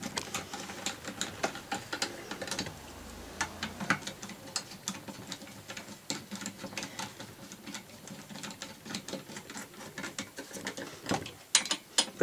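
Hand ratchet tightening the four bolts on a brush cutter during a restoration, giving a long run of quick, close, dry clicking strokes in uneven bursts with brief pauses, and no talk over it.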